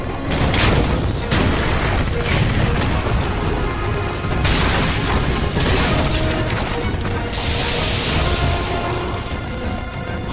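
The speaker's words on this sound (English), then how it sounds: "The ammunition's been loaded! The catapult's on the move too!" A catapult fires during an anime battle, with heavy booms and crashes over a thick, constant roar of combat noise that stays loud throughout.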